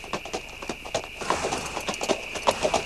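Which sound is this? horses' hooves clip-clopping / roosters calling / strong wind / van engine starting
horses' hooves clip-clopping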